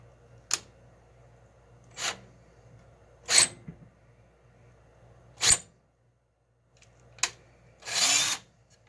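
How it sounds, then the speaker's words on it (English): A power drill boring a hole for a cane topper in a home craft setting: six short separate drill bursts, each roughly a second or less, with the last one longest, set apart by quiet pauses. "I do think I have to actually drill the hole a little bit deeper."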